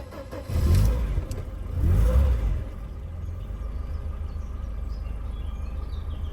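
A Mercedes 190E cranks and fires after sitting in long storage, giving two close surges of starter and engine noise before settling into a steady, low idle rumble.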